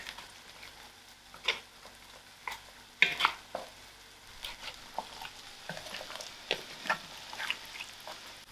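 Biryani dhal simmering in a pot on the stove, with scattered utensil scrapes and stirring clicks over a soft, steady sizzle; quiet and close, no talking.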